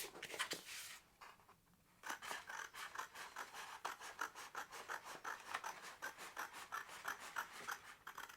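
Paper being cut by hand to make a DIY sketchbook, with a brief rasp, a short pause, then a long run of quick, regular snipping and rubbing strokes, close and fairly quiet.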